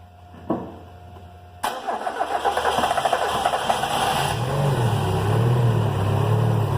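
After a couple of faint clicks, a turbocharged Mazda Miata engine cranks and catches, then settles into a steady, close idle with a low, even rumble.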